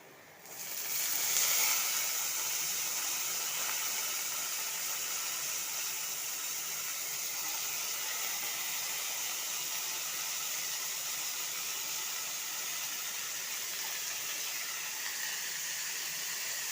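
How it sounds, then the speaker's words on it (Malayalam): Soaked finger-cut potatoes dropped into a hot pan for an aloo fry, bursting into a sudden loud hiss that settles into a steady, even sizzle for the rest of the clip, with no talking. "വെള്ളത്തിലിട്ട് വെച്ചിരിക്കുന്ന ഈ പൊട്ടറ്റോ ഇട്ട് കൊടുക്കാം."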